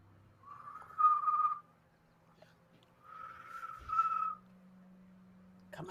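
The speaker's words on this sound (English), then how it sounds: "I was just gonna whistle at it." A person whistles two sustained tones, each about a second long with a short pause between, clear and fairly close over a quiet background hum.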